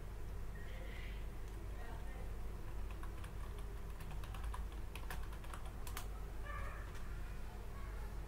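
Keys clatter on a computer keyboard while data is entered into an Excel spreadsheet, scattered quick clicks clustering mid-clip over a steady, faint background hiss.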